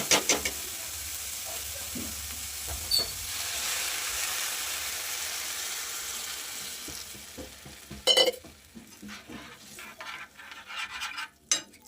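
Water rushes into a hot pan of frying vegetables for Maggi noodles with a strong hiss and sizzle that gradually settles, followed by a few utensil clinks and stirring sounds.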